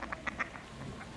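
A duck gives a quick run of short quacks, three or four nasal calls close together, fairly faint and heard alone without voices.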